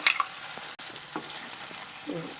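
Gravy paste with poppy seeds sizzles quietly in a pan for a paneer curry, a soft, faint frying hiss with light stirring scrapes.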